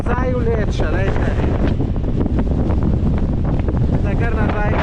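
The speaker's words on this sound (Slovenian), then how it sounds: "Poglejte, kako veter piha, da me kar nazaj vleče, lejte." Strong wind blowing on a ski slope roars constantly and loudly into the microphone, buffeting throughout while a person talks over it.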